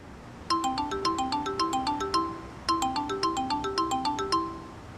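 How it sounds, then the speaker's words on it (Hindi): A phone rings with an incoming call in a Turkish drama, its bright melodic ringtone playing its tune twice in a row, clear and alone with no talk over it. "दामाद साहब की कॉल है क्या?"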